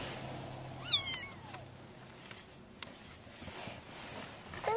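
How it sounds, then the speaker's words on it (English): A faint, brief meow from a cat, rising and falling in pitch, followed by quiet rustling and a soft tap in an otherwise hushed room. "You hear a cat?"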